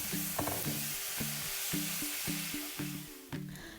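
Korean tteokbokki of rice cakes in spicy sauce with leeks and fish cake is stirred in a sizzling pan, a steady sizzle broken by a regular series of scraping utensil strokes, with no voices.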